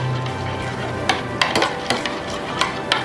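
Chicken roast marinade being mixed, wet squelching and stirring with a few sharp clinks of a utensil against the bowl, close and alone.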